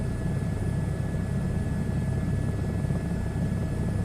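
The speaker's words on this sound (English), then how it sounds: "All I heard was chopper blades." Helicopter rotor blades thump and drone in a flight simulator game. The sound is a steady, moderate, low rumble that runs unbroken throughout, with faint high tones above it and no voices.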